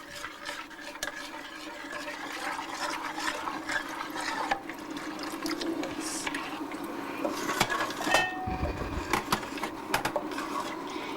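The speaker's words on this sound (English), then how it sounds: "Are you going to add some water in there?" Water is poured and stirred into a cooking pot of boiled lentils for dhansak, a soft liquid sloshing and swirling with light knocks of a utensil, faint and continuous.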